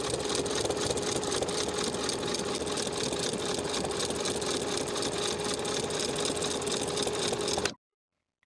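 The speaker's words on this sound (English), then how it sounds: "top stitch all the way around with the 1/4-inch seam allowance" A sewing machine runs steadily, top stitching around the edge of a lined coat belt with a quarter-inch seam allowance, a close, even mechanical whir that continues without pause and then cuts off abruptly near the end.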